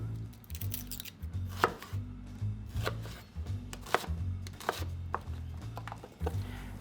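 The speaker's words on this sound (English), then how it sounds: "So with these ones, I just want to finely slice them." A knife finely slices shallots on a cutting board for a northern Thai Hung Lay curry paste, giving a run of crisp, close chopping strokes in an uneven rhythm.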